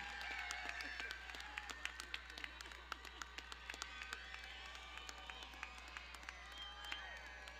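Crowd at a 2022 high school graduation ceremony applauding the senior class president, scattered sharp claps over a steady low hum, fairly distant and thin.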